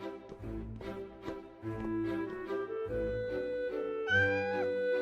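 Cats meowing in a video game about rescuing town cats, a string of short, close, tonal meows with rising and bending pitch that ends in a longer, higher, drawn-out cry.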